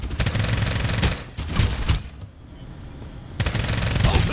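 Rapid gunfire in a video game, with dense bursts of automatic shots crackling in fast succession, loud and close, briefly dropping away before resuming.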